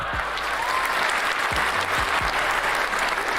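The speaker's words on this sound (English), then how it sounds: "Give me a round of applause." Podcast audience applause, a dense steady patter of clapping hands from a small crowd, fairly close and sustained, with no talk.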